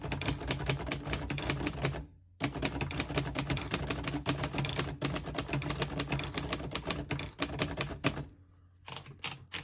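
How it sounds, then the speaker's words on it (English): Rapid keystrokes clack on a 1947 Royal Quiet De Luxe portable typewriter, a dense run of sharp mechanical strikes with a short pause near the start and another near the end. "I'll type a sentence in red on the next line."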